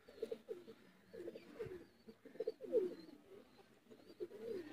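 A Sialkoti pigeon coos nearby in soft, repeated throaty phrases, a few low rolling calls spaced across a quiet background.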